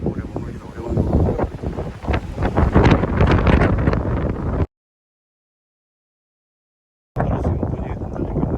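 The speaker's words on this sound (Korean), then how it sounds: "여기에서는 바람이 엄청나게 불고 있습니다." Strong wind buffets a snowy ridge on Gyeryongsan near Sambulbong, roaring and gusting harshly against the microphone, then dropping to total silence for a couple of seconds before the rough blast resumes.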